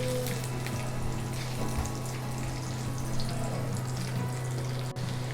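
Chopped onions, about a cup, sizzling in hot oil with cardamom, cinnamon, cloves and peppercorns while cooking mutton bhuna, a steady close crackling hiss throughout with a low hum underneath.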